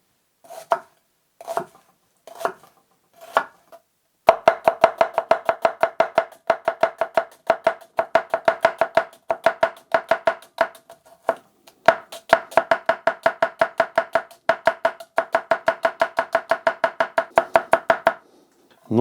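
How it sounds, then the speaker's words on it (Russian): An onion being sliced with a Tefal EverSharp kitchen knife on a board: a few slow separate cuts, then long runs of quick, even, crisp chops, close and clear. "Давайте попробуем лук пошинковать."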